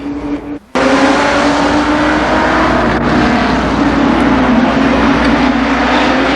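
Super late model race cars roar around Columbus Motor Speedway, a loud sustained engine drone that cuts in abruptly after a brief quieter moment and holds steady, close to the track.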